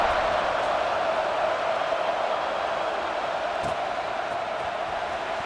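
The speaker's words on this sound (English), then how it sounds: "this crowd is buzzing after that last score" Steady stadium crowd murmur rolls on without a break, a dense buzzing roar after a touchdown in the video game EA Sports College Football 26, with no clear peaks or voices rising out of it.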